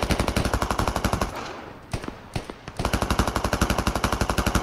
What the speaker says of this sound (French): je tire n'importe où là